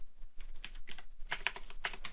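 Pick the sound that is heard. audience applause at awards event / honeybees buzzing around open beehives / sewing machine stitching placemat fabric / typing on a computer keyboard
typing on a computer keyboard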